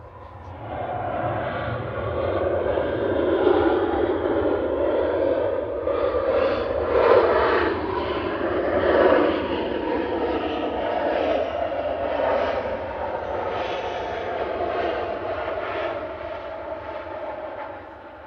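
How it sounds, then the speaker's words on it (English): A Ryanair jet operated by Malta Air arrives from Palma de Mallorca at Manchester Airport, a moderate, steady engine roar with a rumbling low end that swells and eases slightly as it passes, with no talk over it. "Coming in from Palma de Mallorca, that's Ryanair flight 3442 9H"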